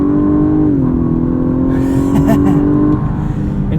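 A 2018 Lexus LS 500 RWD with a twin turbo V6 and 10-speed automatic revs in Sport mode on a winding road, heard from the cabin as a loud, steady engine drone with a slight pitch dip, while someone speaks over it.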